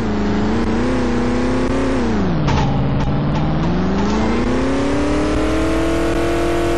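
A car accelerating in The Simpsons: Hit & Run, its engine loud and close, the pitch climbing, dipping and rising again, with a few clicks and knocks over the steady drone.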